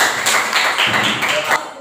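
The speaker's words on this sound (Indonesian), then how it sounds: "benar. Tepuk tangan." Children in an Islamic religious education classroom clap together on cue, a short burst of fast, close applause lasting under two seconds with no voices over it.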